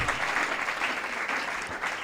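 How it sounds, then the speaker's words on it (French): Loud, dense applause from an audience at a church gathering in Pointe-Noire, a steady wash of many hands clapping without pause for the whole stretch. "Je voudrais qu'on applaudisse très fort pour RIMOD Pointe-Noire, pour le président."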